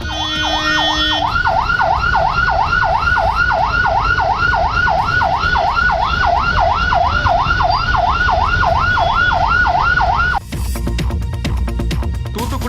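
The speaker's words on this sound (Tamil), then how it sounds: "ஆம்புலன்ஸ் ஒன்றும் நெரிசலில் சிக்கியது." An ambulance caught in a traffic jam during heavy rain in Chennai wails loudly and close by, its siren rising and falling in a fast, steady rhythm over road noise before cutting off abruptly.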